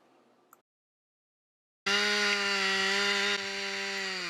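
An MS362 chainsaw fitted with a 28 inch bar cutting oak starts abruptly after a short near-silence and then runs loud and steady at high revs, with a slight dip partway through.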